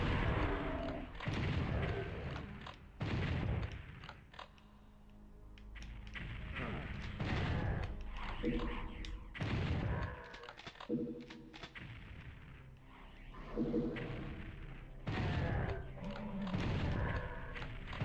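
Missile explosions in the PS1 Doom: Master Edition, a series of heavy booming blasts and gunfire bursts repeating every second or two, loud and dense in a chaotic game fight.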